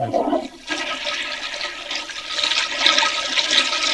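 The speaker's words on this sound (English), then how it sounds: "I've got the plunger sitting in there while I flush it" A toilet flushes with a plunger sitting in the bowl, a loud continuous rush of water that starts after a brief pause and keeps churning steadily, with no talking over it.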